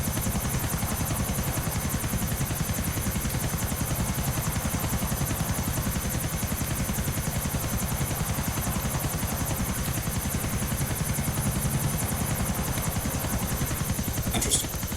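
A helicopter in the video game GTA San Andreas, a steady close rotor drone with rapid rhythmic chopping and high whine, loud and continuous for the whole stretch.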